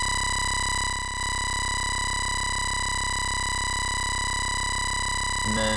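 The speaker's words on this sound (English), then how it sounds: "So let's distort this." A bass sample is pushed through heavy distortion in the FL Studio sampler. It holds as a dense, buzzing, harmonic-rich tone with a brief dip near the start and a rougher, stuttering burst at the end.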